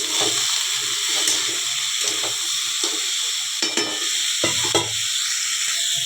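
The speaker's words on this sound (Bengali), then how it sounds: "এই যে আমার ভাজা স্টার্ট হয়ে গেছে" Food sizzles loudly in a hot pan, with bursts of stirring and scraping breaking through the steady crackle.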